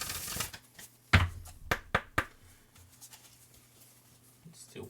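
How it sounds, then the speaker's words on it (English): A deck of cards is shuffled quietly in hand, giving soft papery riffles and several sharp slapping taps in an uneven rhythm. "Let's do one more shuffle."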